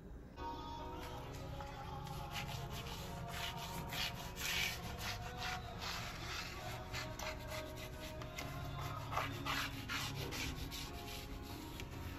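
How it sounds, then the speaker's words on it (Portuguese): A kitchen floor being scrubbed with soap mixed with a little bleach and detergent, a steady close rhythmic rubbing and brushing that continues throughout with no voices. "enquanto o sabão tá agindo aqui, eu vou jogar o sabão na cozinha e esfregar"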